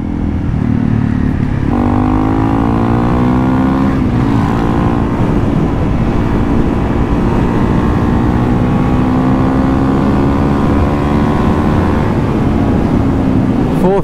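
Honda CRF 300L motorcycle accelerating hard in fourth gear at speed, a loud continuous engine drone rising steadily in pitch after a shift, with heavy wind rush throughout.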